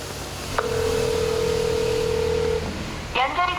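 A phone call that goes unanswered and does not connect: one long, steady ringback tone sounds for about two seconds, then a voice starts speaking.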